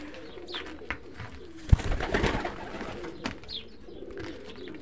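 A Kuwaiti racing pigeon coos in low, soft throaty phrases close by, with a brief louder rustle or bump midway and some faint chirps around it.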